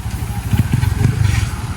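A borrowed motorcycle's engine runs nearby with a low, throbbing, uneven idle over a short stretch, without any talk.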